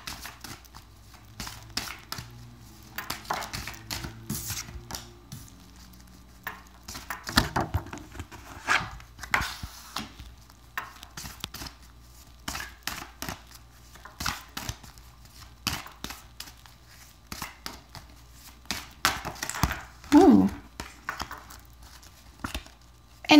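Tarot cards being shuffled by hand, a long run of soft irregular riffling and tapping bursts close by, with no talk over them.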